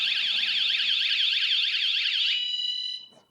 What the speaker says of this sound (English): If you make it come down here, it activates the alarm.